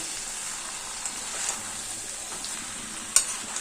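Jackfruit, potatoes and spices frying together in a pan, a soft, steady sizzling hiss with a few faint stirring taps and one sharper clink near the end.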